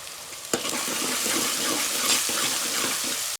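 Onion and green chili fry in a pan for Gujarati urad dal, making a dense, even hiss that starts with a sharp knock, holds steady for about three seconds, then cuts off abruptly, with no talking.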